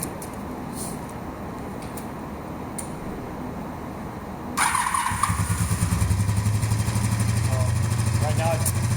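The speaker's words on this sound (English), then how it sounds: "So if we were to start the bike" A cafe racer motorcycle with a freshly rebuilt clutch starts up and settles into a steady, deep idle, close by and loud after a few seconds of quieter background sound.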